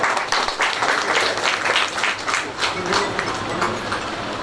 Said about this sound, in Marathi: टाळ्यांचा आवाज थोडा कमी येतोय।